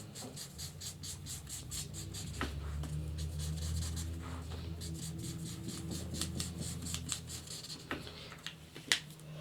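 A pencil traces a sewing pattern ruffle onto clean paper, a soft scratchy rhythmic scribbling in quick strokes, close and quiet, with small taps and rustles of the paper.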